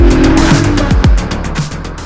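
A mid-engined Porsche with a 4-litre engine drives hard nearby, its loud engine note rising and falling through quick gear changes, with tires squealing over a steady roar.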